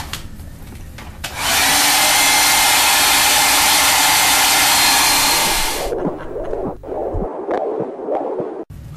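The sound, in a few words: hair dryer drying a painting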